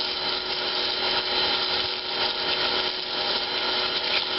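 Electric pressure washer in suds mode spraying foam onto car wheels: a loud, steady, continuous hiss and motor whine with a faint constant tone, running unbroken throughout.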